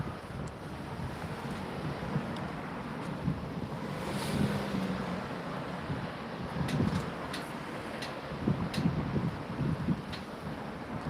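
Gusty wind buffets the microphone on a daytime street walk in Raleigh, a continuous low rumble with swelling bursts throughout, no talking.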